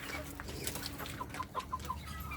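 Chicks and hens clucking and peeping on a farm as they are fed their lunch, soft scattered clucks with a short run of high chirps, fairly quiet over a low background hum.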